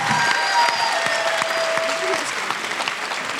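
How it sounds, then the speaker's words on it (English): Dense, steady applause from a live audience fills the whole stretch at a podcast show aboard a Disney cruise ship, a continuous wash of many hands clapping with faint crowd murmur. "Oh, keep applauding."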